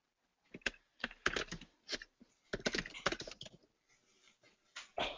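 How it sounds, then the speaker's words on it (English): Bursts of clicky typing on a computer keyboard, close and clear, in irregular clusters separated by short pauses. "What is wrong with my keyboard?"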